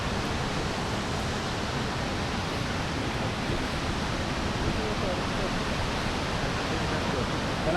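Jog Falls in Karnataka, the state's tallest waterfall, sends up a constant, even roar of falling water that fills the air without a break, heard from a distance.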